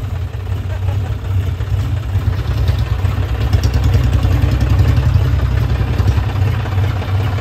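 A John Deere 5050D tractor engine idles close by with a steady low diesel rumble and faint clatter, holding even throughout with no clear voices over it.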